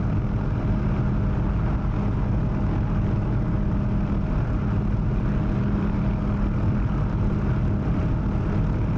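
A helicopter in the DCS flight game flies with a constant loud, dense engine and rotor drone that holds steady without change.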